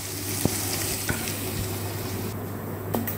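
Ginger garlic paste sizzling in a pan for chicken pulao, a steady close hiss of frying with occasional light clicks of a spoon stirring, and no talking.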